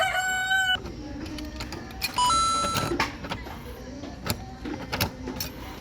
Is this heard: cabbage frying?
no